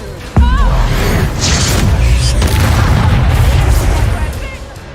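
A Confringo blasting spell in the Hogwarts Legacy video game fires with a sharp crack and then a deep rumbling explosion that rolls on for several seconds. Game music and spell effects play underneath, and a voice speaks over the blast.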